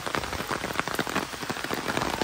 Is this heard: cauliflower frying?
no